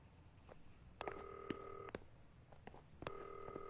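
Two bursts of touch-tone dialing beeps on a telephone, each a steady dual tone lasting about a second, with a few soft clicks between them and no answer, set against a quiet room in a Tagalog-dubbed drama.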